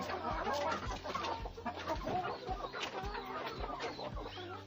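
Chickens cluck repeatedly in a village yard, a busy stream of short near clucks from several birds, fairly faint, with no one talking.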